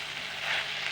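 Okra masala with tomato sizzles in a pan, a steady close hiss of frying that swells slightly midway, with no voices.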